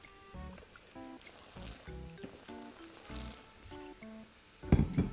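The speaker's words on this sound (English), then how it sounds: "I'm sorry for anyone who heard me drink water." Someone drinks water close to the microphone, with a steady series of gulps and swallows and a louder burst at the very end.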